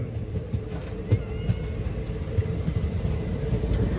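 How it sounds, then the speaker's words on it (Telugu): A passenger train pulls into Nandyal junction station on the Guntur to Tirupati line, with a steady close rumble of wheels and carriages, rhythmic rail clatter and a high metallic brake or wheel squeal rising near the end. "నంద్యాలకి అయితే వచ్చేస్తుంది మన ట్రైన్"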